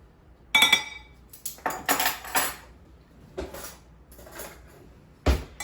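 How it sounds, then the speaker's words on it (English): Fork clinking and scraping against a bowl while ground cinnamon filling is mixed for a gluten-free sourdough coffee cake, a few sharp metallic taps followed by irregular bursts of stirring, close and fairly loud with no talking. "Grab a fork, mix it all together."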